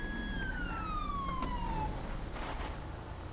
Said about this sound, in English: Why do I hear sirens?